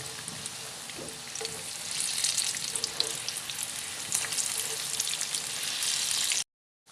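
Bread pakora snacks deep frying in oil, a steady dense sizzle with bubbling crackle that holds for about six seconds and then cuts off abruptly.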